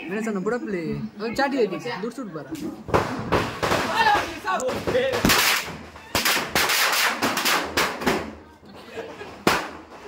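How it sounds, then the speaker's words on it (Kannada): Deepavali firecrackers burst during a family celebration, sharp bangs and thuds scattered through the second half amid loud, continuous talk and laughter close by. "ಅವರ ಹತ್ರ ಪಟಾಕಿ ಹೊಡಿಯೋದಕ್ಕೆ ರೆಡಿಯಾಗಿದ್ದಾನೆ"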